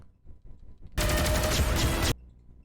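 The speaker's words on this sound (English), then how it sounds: "you can hear the shooting sound, but nobody's shooting" Sci-fi shooter gunfire in a video game trailer: a sudden loud sustained burst of rapid shots lasting about a second, clearly separated from the quieter background before and after.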